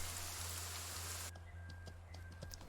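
Steady rain hiss fills the opening stretch of the game Mortal Online 2, then cuts off abruptly partway through, leaving a quieter ambient bed with scattered faint drips and ticks.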